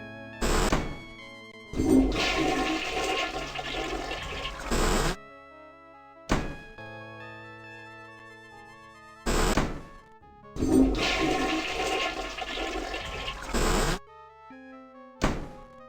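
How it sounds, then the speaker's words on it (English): Toilet flushes in the I Have No Mouth and I Must Scream adventure game: two loud rushing water flushes, each a few seconds long, separated by short thunks and game tones, with no talking. "Go to the restroom and flush 3 times."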